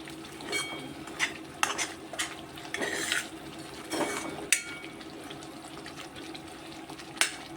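A spoon scrapes and stirs semolina roasting in ghee in a pan over medium heat, with intermittent metallic scrapes and clinks over a soft background sizzle.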